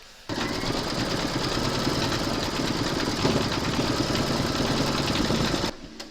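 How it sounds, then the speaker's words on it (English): A sewing machine runs continuously, stitching quilting on a crazy patch notebook cover, a loud even mechanical hum with rapid needle rhythm that starts abruptly and stops just before the end. "Load your thread colour for the quilting on this area into your machine and then stitch round number 8."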